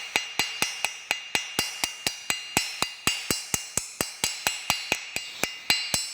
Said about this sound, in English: we're going to peen that over